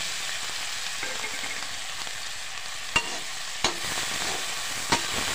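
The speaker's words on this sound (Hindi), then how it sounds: "हम इसे आलू को भूजेंगे।" Potatoes frying with panch phoron, garlic and chili in hot oil, a steady bright sizzle with a few sharp clicks of stirring against the pan.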